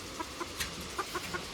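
A hen clucks softly in a farm flock, several short, faint clucks spaced irregularly over steady background noise.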